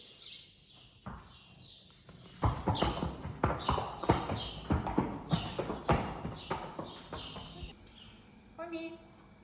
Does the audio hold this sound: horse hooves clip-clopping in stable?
yes